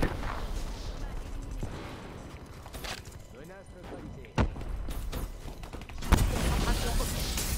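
Gunfire in a first-person action video game, several sharp shots at about 4.4 s and 6.1 s, with steady game noise and talk running through the clip.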